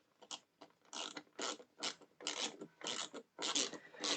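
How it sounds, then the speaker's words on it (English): A screwdriver turns a screw into a Power Rangers Megazord model kit, giving a quiet, close, rhythmic series of ratcheting clicks and scraping turns. "This is the last screw just going in here now."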